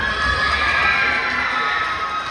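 An audience at a middle school eighth grade night cheers, shouts and claps loudly and steadily, a dense crowd roar with high-pitched children's yells throughout.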